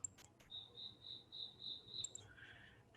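A cricket chirps in a quick regular pulsing trill, faint and close, followed by a brief softer insect chirp in a quiet background.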